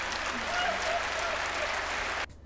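A live comedy audience applauds for a comedian with dense, even clapping that stops abruptly near the end, heard faintly as if replayed under a reaction recording.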